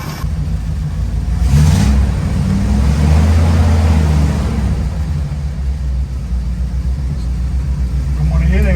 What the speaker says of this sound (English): As the engine heats up, throttle plate is opening up, so it's working like it should.